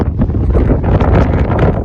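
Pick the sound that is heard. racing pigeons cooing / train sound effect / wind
wind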